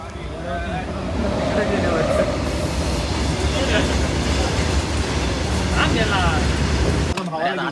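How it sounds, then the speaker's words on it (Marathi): Passenger train near Karanjadi station on the Ratnagiri route, a loud continuous rumble and rattle of passing rail cars heard from aboard, cutting off abruptly near the end, with some talking. "तर आपल्या ट्रेनला क्रॉसिंग झालं"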